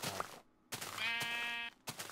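A Minecraft sheep bleats once, a clear wavering baa close by, framed by brief soft game thumps before and after.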